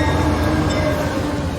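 A train rolls past close and loud, a dense steady roar of wheels on rails with a constant metallic rumble that holds at full strength throughout.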